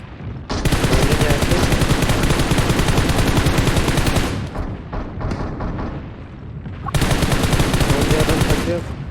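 Rapid automatic gunfire from PUBG Mobile on the Livik map, dense loud bursts and sustained volleys that pause briefly, then resume with a fresh barrage near the end.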